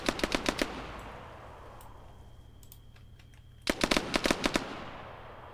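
Tracer gunfire in the Arma 3 Zeus game mode: two loud rapid bursts of automatic shots, the first at the start and the second near the end, separated by a lull of fading echo and scattered faint pops.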